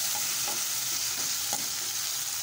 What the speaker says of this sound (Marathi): टोमॅटो परतून घेऊया।